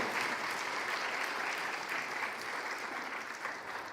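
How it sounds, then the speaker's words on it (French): A church congregation claps steadily during a worship service, a dense and fairly quiet wash of applause with no break and no voices over it. "Alors, mon frère Emmanuel Di Pasquale, on peut l'applaudir, ouais, c'est un enfant de l'Église."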